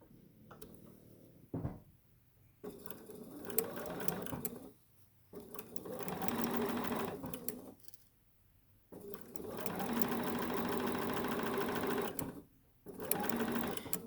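Sewing machine chain piecing half square triangles: the motor runs in bursts of several seconds with short pauses between them, steady whirring and needle ticking at close range, fairly quiet, with no talking.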